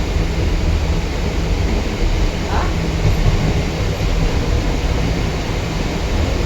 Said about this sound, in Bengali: আমরা তিনজন একটা পুরো খালি বগিতে যাত্রা করছি।